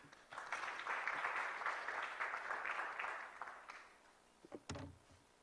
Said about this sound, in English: So colleagues, can we clap for him?